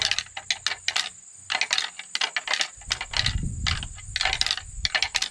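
A Black Rack deer antler rattling device rattled lightly, giving bursts of sharp clicking and clattering with short pauses between, close and fairly loud, with no voices.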